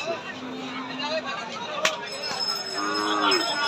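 Cattle lowing at a busy city livestock market in Rajshahi, where heavy bulls are sold for Qurbani, with a long, low moo near the start and more calls later, over a steady hum of crowd chatter.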